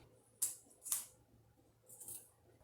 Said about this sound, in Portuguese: o zíper está ok, então agora eu vou cortar o excesso